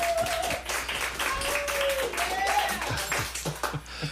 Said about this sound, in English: It was supposed to be applause, Dave, not laughter.